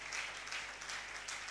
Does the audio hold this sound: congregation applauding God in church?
yes